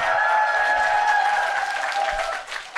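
Audience applause at a lecture in Bundang, a steady, dense clapping from a large crowd that fills the space without pause, then thins and breaks off near the end.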